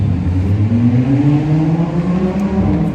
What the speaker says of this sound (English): That is that Lamborghini.